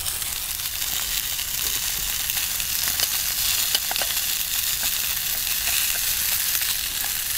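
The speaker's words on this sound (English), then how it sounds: "by the sounds of it, my sausage is starting to get a little bit frazzled" A sausage sizzles in a frying pan outdoors in the woods, a steady, close hiss of frying fat with small crackles throughout and no voices.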